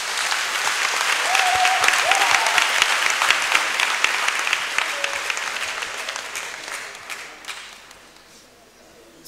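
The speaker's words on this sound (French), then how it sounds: "Je voudrais qu'on acclame pour ce monsieur." A crowd applauding a gentleman at a Catholic pilgrimage to Notre Dame de la Tendre, a dense sustained clapping that swells early then gradually thins out, heard outdoors with a faint voice briefly audible beneath it.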